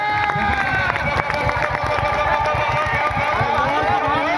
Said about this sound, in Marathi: एकदा पब्लिक जोरदार टाळ्या, हॅलो, जोरदार टाळ्या वाजवा